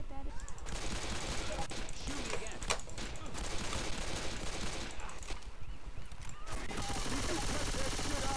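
Gunfire in Left 4 Dead 2 crackles in rapid bursts of shots, dense and fairly close, continuing through the clip amid game noise and occasional voices.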